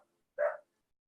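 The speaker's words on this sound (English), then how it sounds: "Excuse my dog." A single short, muffled bark from a pet dog indoors, isolated against near silence and moderately close.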